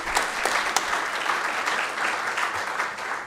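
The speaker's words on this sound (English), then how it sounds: "please give them a big round of applause for that." A crowd at a city council meeting applauds in a dense, steady wash of many hands clapping for several seconds, with a few sharper claps standing out.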